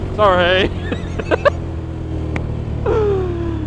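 A motorcycle engine revs up sharply in a short burst, then revs again a few seconds later. Both rises sit over a constant low wind and road rumble heard from the rider's helmet.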